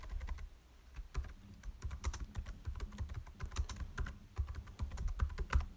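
Rapid typing on a computer keyboard, close and continuous, with irregular bursts of clicking keystrokes and brief pauses, no voice over it.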